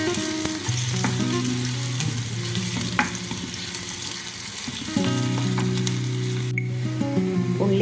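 Onions fry in a pan for a mixed vegetable curry, giving a loud, steady sizzle close by, with stirring scrapes and clinks of a utensil throughout and no talking.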